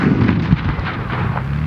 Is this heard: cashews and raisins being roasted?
no